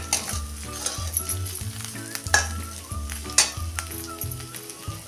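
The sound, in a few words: crushed ingredient sautéing in oil on low flame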